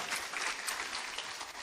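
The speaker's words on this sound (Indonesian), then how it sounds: "Tepuk tangan Bapak Ibu sekalian." Steady applause from a seminar audience fills the moment, a dense continuous patter of many hands at moderate loudness with no speech over it.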